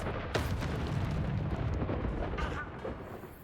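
Confringo spell blasts from a Hogwarts Legacy battle erupt in a dense, sustained rumble of booming explosions, with several sharper bursts punching through the roar.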